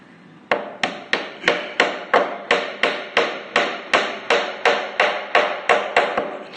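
A hammer drives a nail into a wooden tabletop about sixteen times in a steady, fast rhythm, each blow a sharp close knock that rings briefly before the next.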